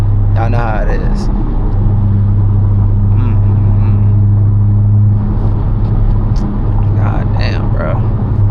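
A 2022 Honda Civic Si's turbocharged engine pulls steadily from inside the cabin, a constant loud low drone with faint whooshing on top, and voices talk over it.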